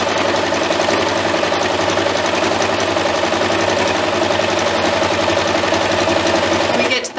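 A sewing machine runs steadily, stitching a fabric book sleeve along a quarter-inch seam at the edge of the presser foot, with a continuous close mechanical whir that stops abruptly at the end.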